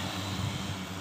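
An agricultural spraying drone flies over a paddy field, making a continuous, even whirring roar with no talking.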